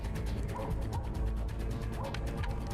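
Dog barking in the video game ATOM RPG Trudograd, repeated barks and yips over a dense, busy game soundscape with mechanical clatter, moderately loud and continuous.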